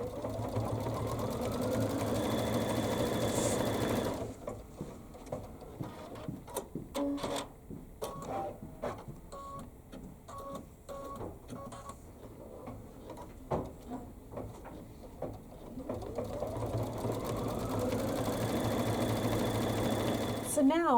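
A sewing machine stitches chenille stripes on a quilted pillow, a rapid mechanical chatter of bursts and pauses through the middle, with someone talking before and after.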